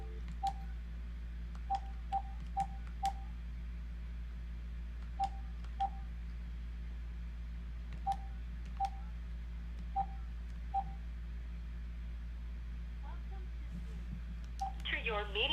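Telephone keypad tones from dialing into a Zoom meeting by phone: a dozen or so short, evenly pitched beeps at irregular intervals over a quiet line hum.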